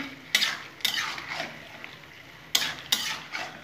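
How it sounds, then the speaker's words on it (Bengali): Boneless chicken with turmeric is stir-fried in a pan, with a few sharp scraping strokes of a metal spatula against the pan and a faint sizzle between them, close by and with no talking. "এখন আমি খুব ভালো করে কষে দেবো"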